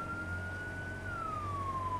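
An emergency vehicle siren in the firefighting game Firefighting Simulator: The Squad wails as one steady tone that slowly falls in pitch, moderately loud over a low engine rumble.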